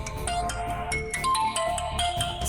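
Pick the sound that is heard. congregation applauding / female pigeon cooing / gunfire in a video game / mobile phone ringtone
mobile phone ringtone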